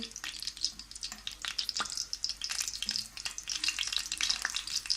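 Potato-stuffed bread rolls fry steadily in a pan of oil over a medium-low flame, giving a dense, continuous sizzle with crackling bursts and occasional stirring.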